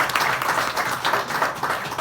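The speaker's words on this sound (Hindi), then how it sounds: "तो माँ हिंदी के लिए जोरदार तालियां बजाएं यार" A crowd applauds in a hall during a Hindi speech event, a dense, steady wash of many hands clapping at moderate loudness for a couple of seconds, with no one speaking over it.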